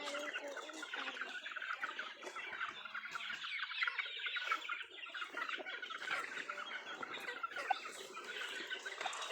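Chickens cluck busily and continuously while eagerly pecking at feed, a dense close chorus of overlapping clucks with no talk.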